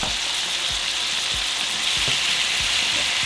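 Beef barbacoa and burrito fillings with tomatoes sizzle steadily on a grill, a dense, constant frying hiss with small occasional pops and scrapes, close up and with no talk.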